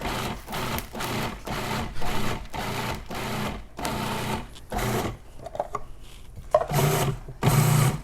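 A food processor blade pulses in short repeated bursts while chopping basil for pesto, a rhythmic series of whirring spurts separated by brief gaps, loud and close.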